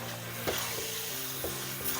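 Sauce and scrambled eggs hit a hot wok, a soft, continuous sizzle with a few light scrapes and taps from stirring.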